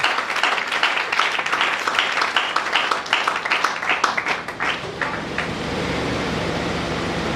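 A church congregation applauds loudly for the Lord, a dense wash of many hands clapping for about five seconds before tapering into a steady room hum.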